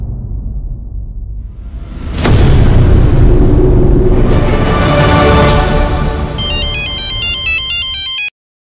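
A dramatic boom and whoosh give way to a short electronic phone ringtone melody that chimes for about two seconds before cutting off sharply.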